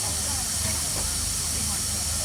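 A full-size steam traction engine at a country show hisses steadily, a loud continuous broadband rush of escaping steam filling the air without break.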